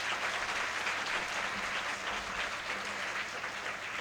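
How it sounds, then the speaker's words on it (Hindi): Steady, dense applause from an audience at a school event, a continuous wash of many hands clapping throughout with no voices standing out. "एक बार ताली बजा दो सबके लिए,"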